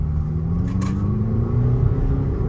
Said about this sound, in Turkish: çok seri bir şekilde araç hızlanmaktadır